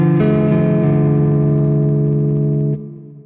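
A microtonal 22EDO two chord built on the raised second degree rings as one loud sustained synth triad for close to three seconds before decaying. No voices.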